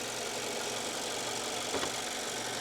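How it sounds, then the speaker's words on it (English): A 2025 Mazda3 with the 2.5-liter turbocharged engine hums in a steady, even drone, heard from inside with a faint brief knock partway through and no talking. "turbocharged engine"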